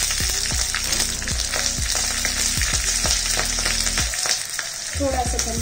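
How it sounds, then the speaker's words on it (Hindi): Mustard seeds, curry leaves and green chilli sizzle loudly and steadily in hot oil for a dhokla tempering, with a dense crackle and occasional clinks of a spoon stirring the pan. "तेल गरम हो चुका है, अब हम इसमें राई डाल देंगे 1 चम्मच, 12 से 15 कड़ी पत्ता,"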